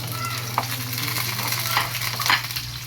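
Garlic and onions frying in hot oil with a steady close sizzle, plus a few soft stirring scrapes over a low background hum.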